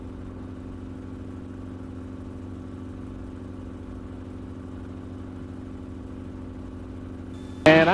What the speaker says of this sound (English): we're just going to fly right over Santa Monica and Rodeo